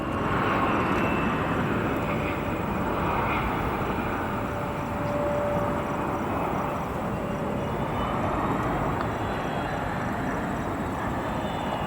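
An arriving airliner at a busy airport, a broad continuous roar of jet engines with a faint whine, steady and fairly close throughout, no voices.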